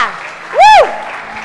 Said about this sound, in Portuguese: Dá uma salva de palmas e glorifica o nome do Senhor.